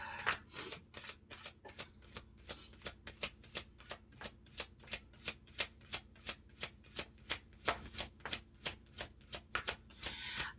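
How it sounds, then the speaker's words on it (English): Tarot cards shuffled by hand in a rapid, steady series of crisp riffling snaps, close and clear with no talk over them. "Do you see how I'm shuffling and it just was taking forever?"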